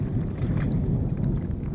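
Thunder rumbling during a lightning storm on a duck hunt, a deep continuous low roll with no talk.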